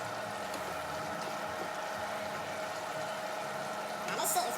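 A steady, broadband hiss of bacon frying in a pan, continuous and fairly close, with a brief louder crackle near the end.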